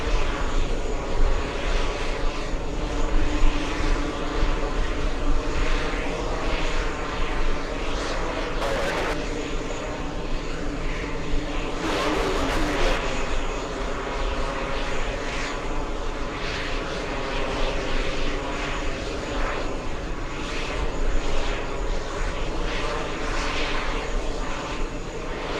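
An MNG Airlines Airbus A330-300 bound for Istanbul roars with a sustained, loud engine rumble throughout, a continuous broadband drone with slight swells.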